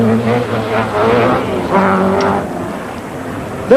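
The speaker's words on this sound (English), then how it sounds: "Former Saab driver Per Eklund, battling for a top 10 place in the Toyota Celica." A Toyota Celica rally car driven by Per Eklund roars past at speed on a rally stage, a loud engine drone rising and falling over several seconds before fading.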